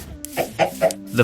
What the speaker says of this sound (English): Sorry about the chicken noise.